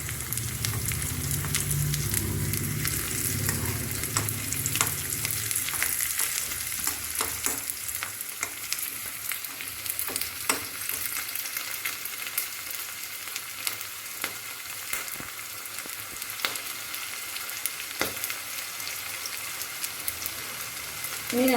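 Green chilies and small chilies frying in hot oil for a fish roe fry, a constant loud sizzle with repeated stirring clicks and scrapes throughout.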